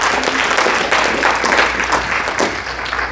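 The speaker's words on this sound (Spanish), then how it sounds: "Dale ese fuerte aplauso, Señor." Loud, dense applause from a church congregation during a Spanish-language service fills the space, steady and continuous with scattered sharper claps.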